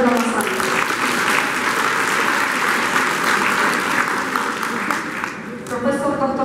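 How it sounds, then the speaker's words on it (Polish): An audience claps warmly for a professor at a school's 70th anniversary celebration, a dense and loud wash of applause that holds for several seconds, with a voice speaking over it near the start and end. "Wielkie brawa dla profesora."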